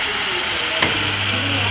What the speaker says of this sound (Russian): А вот картошечка жарится. Хрустящая.